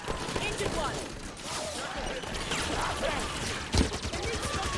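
Halo 5 gunfire rattles in steady repeated bursts throughout, mid-distance and fairly loud, with one sharper crack near the end and a voice talking underneath.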